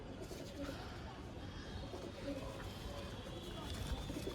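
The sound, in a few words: pigeons cooing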